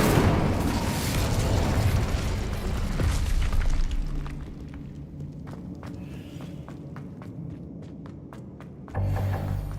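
A burst of the Incendio fire spell in Hogwarts Legacy: a loud, roaring whoosh of flame that fills the first four seconds, then fades into quieter ambience scattered with sharp clicks and steps.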